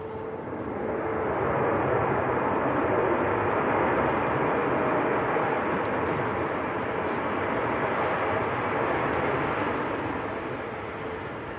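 Lufthansa airliner on approach to Manchester Airport in strong wind, a steady broad engine roar with wind rush holding loud and constant throughout.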